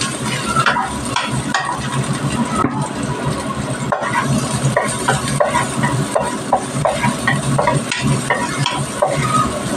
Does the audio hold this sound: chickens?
no